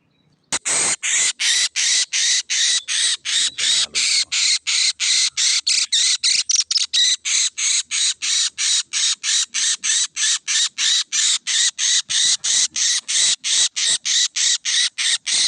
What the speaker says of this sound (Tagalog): Lumapit yung mga ibang ibon, mga lods.